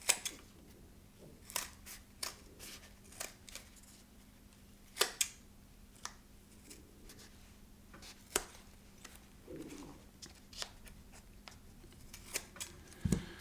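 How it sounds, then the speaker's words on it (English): Scissors trimming and rounding the corners of a sock for a puppet, a series of short sharp snips spaced irregularly, close and fairly quiet against a faint background hum. "So what you do next is you go ahead and cut it and round the corners off."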